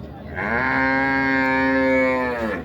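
A Sahiwal cow at a cattle market gives one long, loud, harmonic moo lasting about two seconds, heard close and clear.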